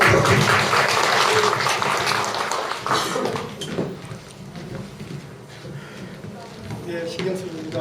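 Applause from an audience at a Korean talk-series gathering, loud and dense at first and then thinning into scattered claps mixed with room noise and faint voices.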